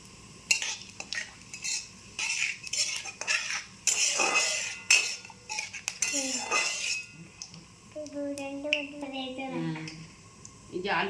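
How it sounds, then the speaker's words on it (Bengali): Whole cumin, a dried chili and a bay leaf tempering in hot white oil, heard as a soft sizzle under repeated clinks and scrapes of a spatula on the pan, with someone talking throughout. "যে গোটা জিরে ফোড়ন দিলাম, একটা শুকনো লঙ্কা দিলাম, একটা তেজপাতা দিলাম।"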